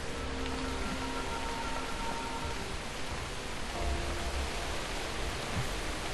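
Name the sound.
rain falling in the video game Guild Wars 2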